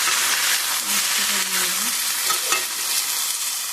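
Potatoes fry in a pan with a loud, dense, continuous sizzle. Stirring scrapes are heard under it, close up.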